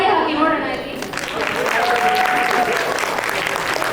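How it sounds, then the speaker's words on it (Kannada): Audience applause at a Kannada Rajyotsava community event in Albany, New York, a steady spread of hand claps filling the room for the whole stretch, with a voice briefly audible near the start. "ಸ್ವಲ್ಪ ಚಪ್ಪಾಳೆ ಹಾಕಿ ನೋಡೋಣ ಇಲ್ಲಿ"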